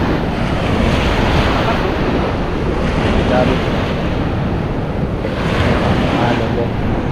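Strong ocean waves roll in on a Siargao beach, a steady loud wash of surf and wind buffeting the microphone, with brief faint speech.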